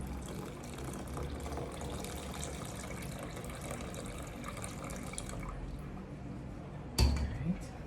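Ice water is poured into a well of flour, a continuous watery trickle with a low background rumble, then a sharper splash or clatter near the end.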